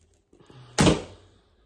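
A recurve bow fitted with ILF limbs is shot at close range indoors, giving one sharp, loud thump with a brief decaying rattle after some faint handling noise.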